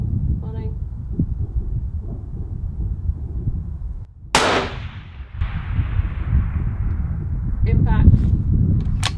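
A long-range rifle fires a single sharp, loud shot from close by, its report trailing off in a long fading echo across open ground, with wind noise throughout and faint voices at the start and end.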